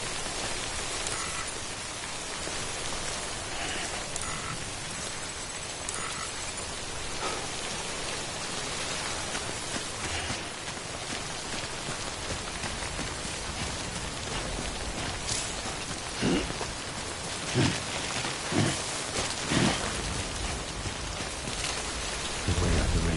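Heavy rain pours continuously with deep rolls of thunder underneath, a dense outdoor wash of sound with scattered louder thumps and drips toward the end.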